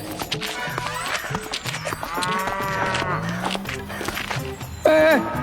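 A buffalo lows in a field in a Hindi cartoon, with long drawn-out moos and a few hoof-like steps, under steady background music and sound effects.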